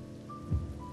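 Rain in the video game Final Fantasy XV, falling as a steady soft hiss with a low rumble swelling briefly in the middle and a faint tone running under it.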